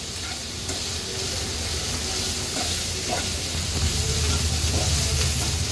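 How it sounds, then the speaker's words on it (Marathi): Potato sabzi stir-frying in a hot tempering over a high flame gives a steady, close sizzle and hiss, with soft stirring scrapes running through the whole stretch and no talking. "आता फोडणीवर भाजी छान आपल्याला परतून घ्यायची आहे"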